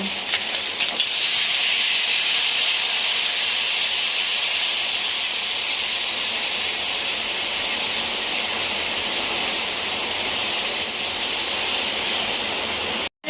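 Fish curry broth with turmeric water and pepper bubbling hard in a pan, a loud steady hiss and sizzle that fills the whole stretch with no voices.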